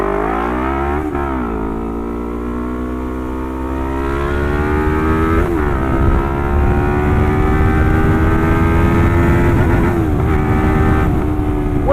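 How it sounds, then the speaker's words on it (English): A Lexmoto LXR380 motorcycle engine revs repeatedly, close and loud, its pitch climbing in long rising sweeps toward the rev limiter with brief dips between pulls. "the revs got to just over 10 before they kicked in. The rev limit kicked in"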